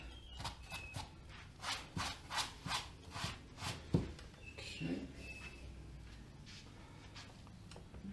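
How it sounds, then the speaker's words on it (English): A brush scrubs acrylic paint onto canvas in soft, rhythmic rubbing strokes, about a stroke every half second, faint and close, then fading into quieter irregular dabs. "I'm just scrubbing the brush. I'm holding the brush at the end. I'm just scrubbing the paint on."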